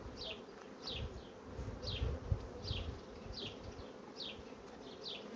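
Honeybees buzzing steadily around a hive being split into two colonies, a dense low drone with faint insects passing close by, quiet and continuous without any voices.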